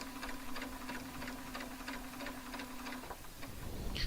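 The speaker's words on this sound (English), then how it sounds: "I'm just going to go ahead and sew this" Sewing machine stitching quilt pieces, a continuous close mechanical hum with quick regular ticking of the needle, running steadily for a few seconds before slowing near the end, with no talking.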